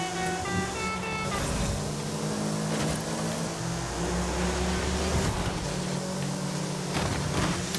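A Subaru racing in Forza Horizon 5's Eliminator mode, its engine droning steadily with shifting tones and gear changes beneath a continuous wash of road and wind noise, loud and unbroken, with no voices.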